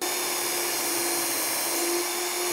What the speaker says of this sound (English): I can now drill the rest of these holes.